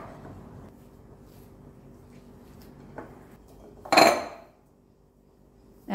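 Glutinous rice flour dough mixed in a bowl for butchi, soft faint scraping and squishing that ends in one sharp clatter of a utensil against the bowl near the close.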